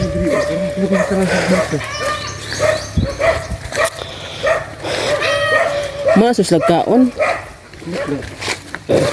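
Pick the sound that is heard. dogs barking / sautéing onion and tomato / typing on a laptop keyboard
dogs barking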